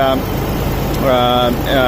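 A 1999 Isuzu Trooper Limited idles steadily in its engine bay with an even, close mechanical hum, while a person talks over it intermittently.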